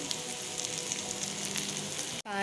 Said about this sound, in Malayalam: ഇത്രയും കൂടി ഇട്ടിട്ട് നമുക്ക് നന്നായിട്ടൊന്ന് മൂപ്പിച്ചെടുക്കാം ചെറു തീയിലിട്ട് വേണം ഇത് മൂപ്പിച്ചെടുക്കാൻ